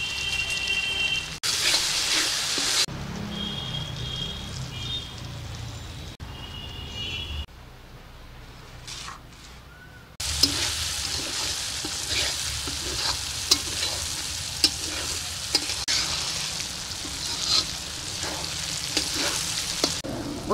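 Masala for chicken kala bhuna, with a little sugar added, sizzles and fries in a pan while being stirred. The sound is a steady crackle broken by short pauses and a few sharp scraping ticks.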